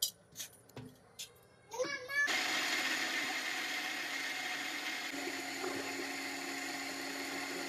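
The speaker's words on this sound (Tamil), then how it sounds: "இது மூணையும் சேர்த்து அரைக்க போகிறாங்க" A mixer grinder grinding cinnamon, dried chili, garlic and cumin roars up after a child's brief speech, then runs as a loud, steady whir with a slight drop in pitch midway.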